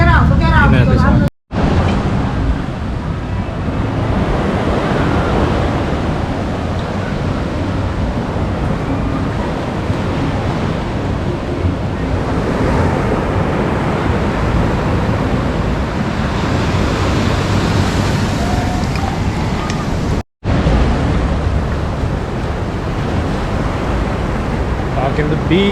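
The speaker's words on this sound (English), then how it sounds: "Walking the beach in Sosua, Dominican Republic" Ocean surf rolls onto the beach at Sosua, Dominican Republic, a loud continuous wash of waves with heavy wind rumble on the microphone, broken by two brief dropouts.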